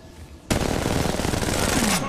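Rapid automatic gunfire in the mobile shooter Apex Legends Mobile, a loud continuous burst that starts abruptly and runs for about a second and a half before cutting off.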